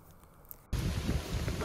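Rain falling on a canal-side cycling trail bursts in abruptly after a quiet moment, becoming a dense, steady hiss of pouring rain that continues to the end.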